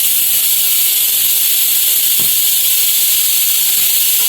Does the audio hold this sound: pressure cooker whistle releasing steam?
yes